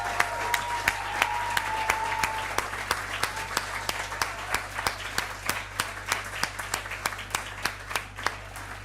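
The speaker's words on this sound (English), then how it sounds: "Can we have a round of applause for them?" Applause at a university academic awards night for two students' union officers, a room's worth of clapping with sharp individual claps standing out and a brief cheer early on, fading gradually toward the end.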